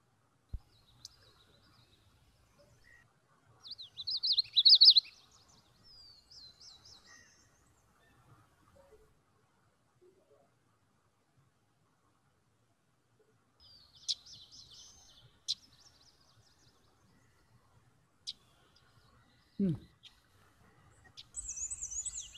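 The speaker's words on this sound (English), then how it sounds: "it's a common yellow throat" A common yellowthroat sings in short, high, chirpy phrases separated by long quiet gaps, clear and fairly close, with a few faint clicks and no talk.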